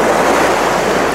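Ocean waves at a beach, a loud, steady wash of surf with wind noise on the microphone and no talking.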